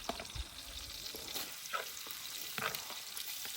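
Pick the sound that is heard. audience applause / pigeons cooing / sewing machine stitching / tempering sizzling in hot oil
tempering sizzling in hot oil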